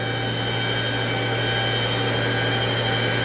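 A 1998 Citizen Cincom L-20 Swiss-type CNC lathe runs its sub spindle at 7,000 RPM, giving a loud, steady high-pitched whine with a constant hum underneath and no change over the few seconds.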